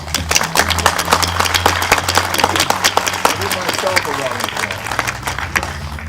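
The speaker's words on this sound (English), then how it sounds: "So I think that deserves a round of applause." Audience applause at a municipal DPW naming ceremony, steady dense clapping sustained throughout under a low hum, moderately loud and fairly close.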